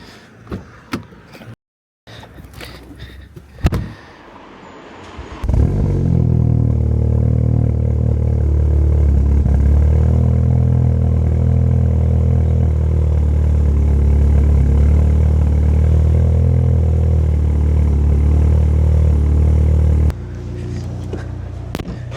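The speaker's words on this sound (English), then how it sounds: "hopefully you would have heard that cold start" An Audi S3 8V with a Scorpion non-resonated valved exhaust cold starts on a freezing day. Door and cabin clunks come first, then the engine fires and settles into a loud, deep, steady idle rumble.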